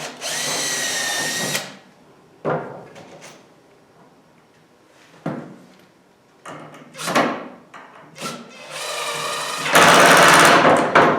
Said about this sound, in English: Do one pre-drill.